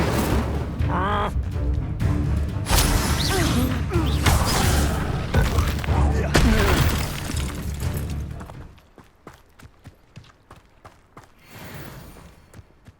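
A fire spell blast in Hogwarts Legacy erupts loudly amid dense combat effects and music, then gives way to quieter, sparse crackles and thuds.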